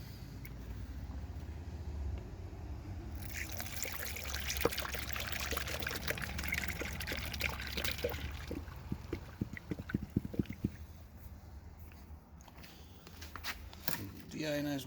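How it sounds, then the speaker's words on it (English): Radiator flush glugs and trickles as it is poured into a car's cooling system, a long steady splashing pour with gurgling bursts near the end, close up under background noise. "put the rad flush in."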